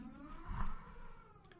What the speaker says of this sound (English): That is my cat, nuzzling the new microphone.